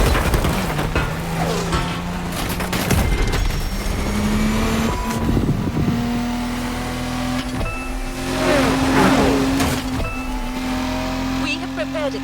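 A BMW Z4 M40i convertible from The Crew Motorfest drives through the backcountry, its engine droning steadily and climbing in pitch with small shifts, loud and continuous. Speech runs over it.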